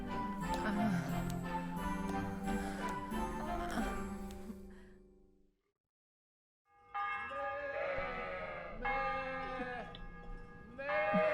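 Sheep in the medieval role-playing game Kingdom Come: Deliverance bleat repeatedly in wavering, nasal cries, loud and near, with a short silent gap midway before a fresh run of bleats.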